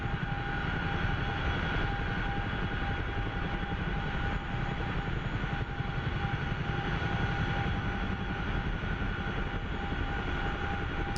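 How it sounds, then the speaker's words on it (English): A CH-47F Chinook helicopter flies in the DCS combat flight simulator, its steady engine and rotor roar loud and continuous throughout, with no voices. "Chinook can fly surprisingly fast."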